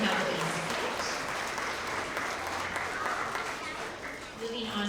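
An audience at an elementary school award assembly gives a sustained round of applause for first grade students, a broad, even wash of many hands clapping, with a few voices mixed in.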